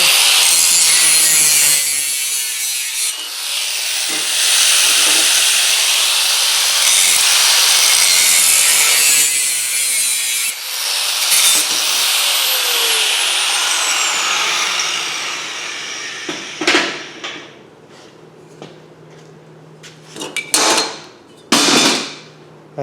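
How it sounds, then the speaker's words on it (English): A new abrasive cutoff wheel grinds through one-inch metal stock in a scrap yard, a loud sustained high-pitched screech that holds for most of the stretch, then breaks into scattered clanks and short bursts near the end, with no talking. "here we have a brand new cutoff wheel. And that's what we're going to use to cut this 1-inch apart"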